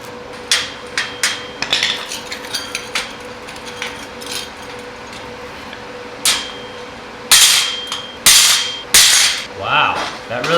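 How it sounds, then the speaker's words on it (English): Sharp metallic hammer blows strike freshly welded metal, a scattered run of light taps followed by several loud, ringing hits near the end, close and distinct over quiet background noise. "Let's hit it with a hammer."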